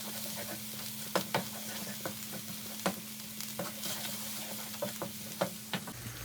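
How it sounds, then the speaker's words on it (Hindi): Spices roast in a frying pan with a soft, steady sizzle, punctuated by faint scattered clicks of stirring against the pan. "1 मिनट हम स्पाइसेस को भून लेंगे।"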